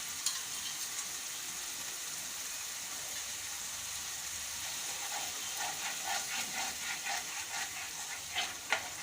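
Besan and yogurt fry in a pan with a soft, continuous sizzle, lightly stirred, giving faint scraping clicks and small bursts toward the end, quiet and close, with no voices.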